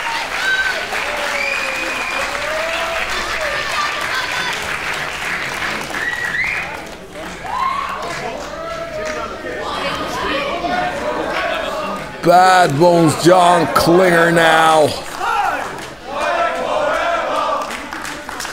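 Crowd at a professional wrestling show cheering and applauding, a steady roar of clapping and shouts throughout with an announcer talking over it, swelling louder for a few seconds toward the end.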